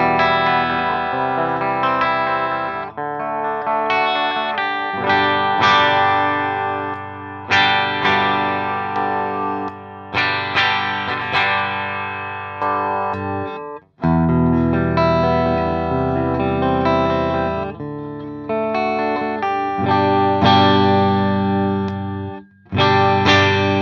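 Epiphone Les Paul Prophecy electric guitar with Fishman pickups, played through distortion and effects: loud, continuous chords and riffs with brief pauses and sustained ringing, close and alone without any talking.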